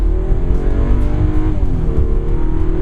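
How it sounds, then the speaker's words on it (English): A 2012 Subaru Legacy with a Boxer 6 engine growls under throttle, a loud, steady low rumble with layered harmonics that rise and shift slightly as revs change, heard alone without talk. "It's got a mean growl when you step on the throttle."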